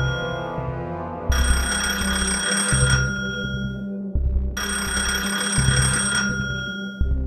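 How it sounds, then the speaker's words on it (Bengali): A telephone rings on the other end of the line in a Bengali horror audio drama. Two long, bright electronic ring bursts sound with a short gap between them, steady and fairly loud over a low background hum. "শুনতে পেল ওপাশে রিং হচ্ছে।"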